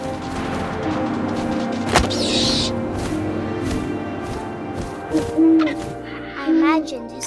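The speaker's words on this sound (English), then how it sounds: "And suddenly, I was an owl." An owl hoots in the video game What Remains of Edith Finch over a steady bed of wind and ambient drone, with a sharp thump partway through and a few louder swells later.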